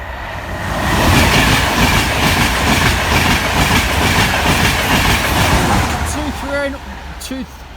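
A train rumbles past a level crossing on Grove Road for most of the stretch, loud and close with steady rail noise and clattering wheels, while people talk over it and a brief tonal warble sounds near the end.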